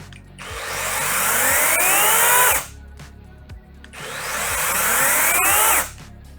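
A small Procraft cordless mini chainsaw spins up slowly with a rising whine, runs briefly, and stops quickly, twice in a row with a short pause between.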